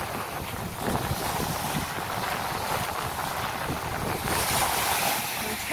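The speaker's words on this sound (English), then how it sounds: "Look at this ocean." Ocean waves wash steadily against a beach under gusty wind buffeting the microphone, a continuous moderate rush that swells slightly toward the end.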